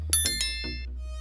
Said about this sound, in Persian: زنگوله رو بزن